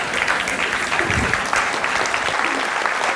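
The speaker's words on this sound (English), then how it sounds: "So everybody's clapping again." A lecture audience at a TED talk about tying shoes gives a sustained round of applause, a thick, continuous wash of many hands clapping at an even loudness throughout.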